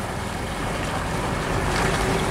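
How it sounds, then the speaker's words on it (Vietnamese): Boats and barges passing on a river at a busy stone quay, a steady broadband engine and water rumble with wind noise across the microphone, constant and fairly close. "Ghe cộ đi ngang đây là lưu thông liên tục luôn nha các bạn."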